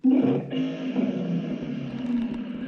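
A deep, throaty BMW M5 engine with an aftermarket intake roars loudly, revving up then settling into a steady, rumbling growl close by.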